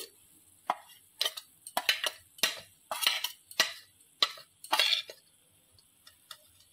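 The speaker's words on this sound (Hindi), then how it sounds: "मु एठी गोलमरिच गोटे टेबल स्पून पकाउची।" Black peppercorns roasting in a pan are stirred with a spoon, giving sharp scraping and rattling strokes in an irregular rhythm, close and fairly loud, separated by near silence, with no talk.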